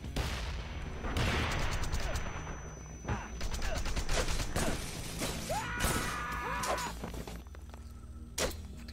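Grenade and combat noise in Wanted: Dead: a dense, loud run of blasts, rapid gunfire and crashing impacts that keeps up for several seconds before easing off.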